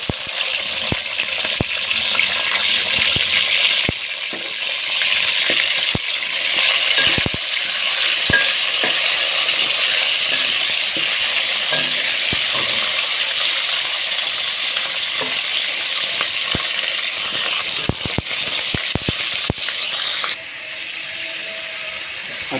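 Chicken frying in a pan after browned onions are removed, a steady bright sizzle with repeated clicks and scrapes of stirring throughout, the sizzle dropping slightly near the end.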